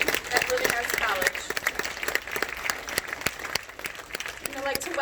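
Audience at a college graduation ceremony applauding students, sparse and irregular clapping from a modest crowd with separate distinct claps and some murmured voices.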